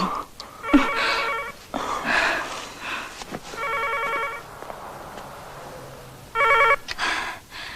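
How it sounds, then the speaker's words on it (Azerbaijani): A telephone bell rings in bursts in an indoor scene from a 1993 Azerbaijani film, the trilling rings repeating at intervals with quiet gaps between them, clear and fairly loud. "Telefon."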